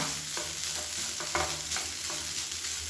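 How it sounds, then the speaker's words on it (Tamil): Vegetables for a white kurma sizzle and fry in a hot pan, with soft scraping stirs of a spoon breaking through the steady crackle at close range; no talking. "இதையும் சேர்த்து நல்லா வதக்கிக்கலாம்."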